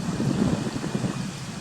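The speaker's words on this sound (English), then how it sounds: "there's the rain starting" Rain beginning to fall outdoors on a riverside path at a farm in a valley, a steady broadband hiss with soft low rumble, continuous and moderately loud throughout.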